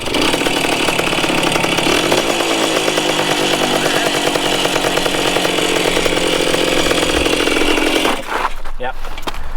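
A Yamaha Enduro 125 dirt bike mid-restoration after a carb rebuild, its two-stroke engine buzzing loud and close at a high, raspy steady rev, then cutting off abruptly near the end.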